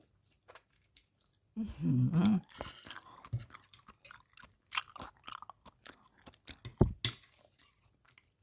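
Close, wet chewing of braised pork leg with skin, with soft squishy bites and smacking. A short hum-like vocal sound comes early, followed by repeated chews and a sharp crunch near the end.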